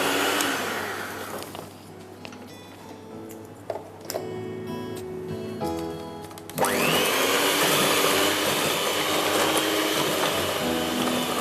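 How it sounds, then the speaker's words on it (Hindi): Electric mixer beating orange drizzle cake batter with eggs until creamy, starting with a lower intermittent whir and clatter, then switching to a loud, steady high-speed whine that continues to the end. "आपको अच्छी तरह बीट करना है जब तक कि ये क्रीमी हो जाए"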